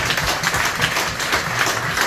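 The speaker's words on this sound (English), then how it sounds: "I think you deserve a round of applause." An audience at an evening talk with Ducati riders gives a round of applause, a brief dense burst of many hands clapping at steady loudness, fairly close, with no speech over it.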